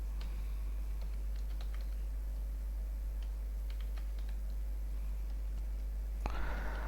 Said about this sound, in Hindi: मुख्तलिफ डेट ऑफ बर्थ टाइप कर लेते हैं यहाँ पर।